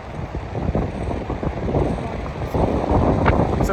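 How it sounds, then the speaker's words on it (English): Strong wind buffets the microphone outdoors on a hot day in Taghazout, Morocco, making a continuous, loud, rumbling roar with gusts that swell and ease. "It's a very strong wind, but the temperature is still quite hot."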